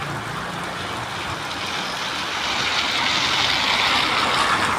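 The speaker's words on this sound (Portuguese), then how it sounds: "Olha que chuva mais abençoada." Steady rain falls in a dense, even hiss that swells slightly louder toward the end, a long-awaited shower with no voices over it.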